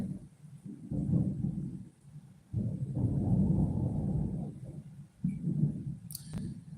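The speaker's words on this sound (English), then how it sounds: "Oh, there's that thunder." Deep thunder rolls in several long, rumbling waves, fairly distant and muffled, with brief lulls between swells and a faint click near the end; no one speaks.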